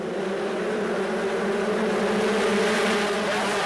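Pack of 125cc two-stroke motocross bikes at a 1994 Grand Prix in Sweden or Hungary, engines blaring together in a dense, steady buzzing drone at full throttle off the start, loud and continuous with no break.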